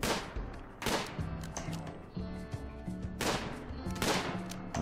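RimWorld colonists exchange gunfire in a fight, with sharp single shots and short bursts cracking repeatedly over the game's music, moderately loud and without any voices.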